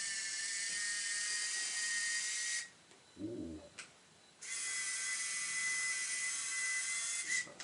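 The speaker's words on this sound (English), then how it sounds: "the zoom goes from 38mm to 140mm, and I think it's quite an excitable camera." Film camera zoom motor driving the lens from 38mm to 140mm, a high steady whirring buzz held for a few seconds, then a short pause with a brief voiced exclamation, followed by another long whir, close and clear.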